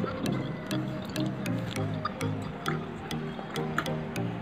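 Water sloshing and dripping as a pigeon's water bowl is rinsed and cleaned, with soft splashes and small ticks over a low hum, close and moderate in level.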